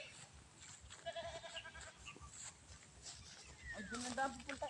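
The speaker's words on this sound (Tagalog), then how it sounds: "Nagkalat po dito ang kambing." Goats bleat in mountain country with several animals calling at a moderate distance, mixed with wind noise, while people talk nearby.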